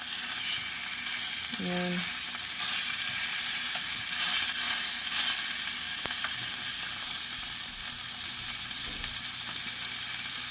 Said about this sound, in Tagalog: Lutuin ko muna itong fat niya kasi masarap talaga kapag luto ang fat.